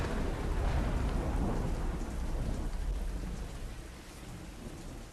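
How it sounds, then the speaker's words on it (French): Heavy rain pours down steadily with a deep rumble of thunder, loud at first and easing slightly over the few seconds, with no voices. "Quand il pleut comme ça"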